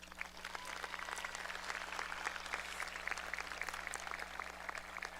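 A high school graduation crowd claps in a continuous, moderately distant patter, with individual claps just audible above a steady low hum.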